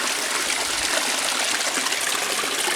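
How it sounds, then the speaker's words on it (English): A small mountain stream flows steadily in winter, a continuous close, fairly loud rush and trickle of water with no voices. "Look at this little mountain stream here."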